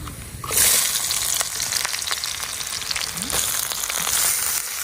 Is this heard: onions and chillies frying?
yes